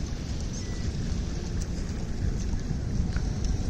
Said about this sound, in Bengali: এই যে স্পিড বোট আসতেছে